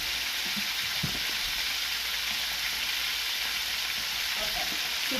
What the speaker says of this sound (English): I'm going to add the onion now